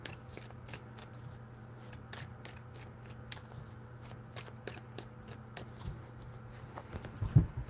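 A deck of tarot cards is shuffled by hand, with a quick series of crisp riffling flutters spaced at irregular intervals, close and soft, with no talking.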